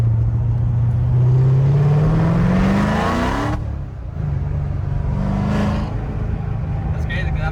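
Corvette C7 fitted with Kooks headers, close and loud, its engine note climbing steadily through a rev before a sharp shift drop, then pulling again at lower pitch while people talk over it.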